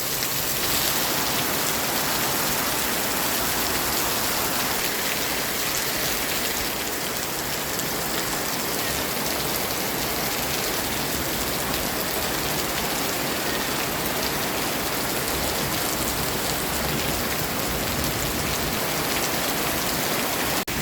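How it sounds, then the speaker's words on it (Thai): Heavy rain pours during a storm in a steady, dense hiss that stays loud and constant throughout, with no voices. "พายุเข้าค่ะฝนตก"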